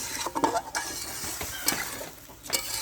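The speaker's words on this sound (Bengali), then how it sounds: "মাছ কষানো হলে সবজিগুলো দিয়ে দিব সবজি দিয়ে দিচ্ছি" Fish and fresh vegetables cook in a pan with a moderate sizzle, mixed with stirring scrapes and occasional clinks of a utensil against the pan, close and fairly quiet.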